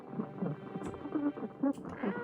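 Cat meows in a horror video game, several short tonal calls in a row over a steady game background, fairly close and moderately loud.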